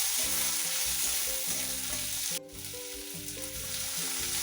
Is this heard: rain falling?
no